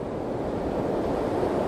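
Gulf of Mexico surf washes up the beach at Galveston, Texas, a steady close rush of breaking water mixed with wind noise on the microphone.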